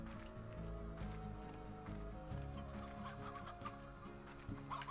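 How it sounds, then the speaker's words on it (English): Chickens cluck in the grassy open area of the video game Slime Rancher, with several birds making scattered, fairly faint clucks and calls over soft rustling ambience. "Chickens!"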